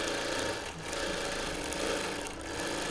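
A sewing machine free-motion quilts slowly over thick fused fabric layers on a Christmas table runner, a continuous close mechanical whirr with rapid stitching pulses and two brief dips in pace.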